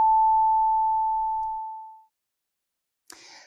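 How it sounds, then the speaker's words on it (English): A pure sine test tone holds steady and loud, then fades smoothly in loudness over about two seconds into silence, followed by a brief burst of different sound near the end. "I'm going to change the frequency or pitch and the amplitude or loudness of my wave."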